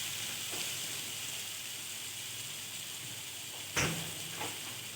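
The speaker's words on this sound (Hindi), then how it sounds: "अब इसमें मैं थोड़ा सा योगर्ट डालूंगी।" Steady sizzle of food frying in a pan as yogurt goes in while making a spaghetti basket dish, with a louder hissing burst when it hits the hot oil near the end.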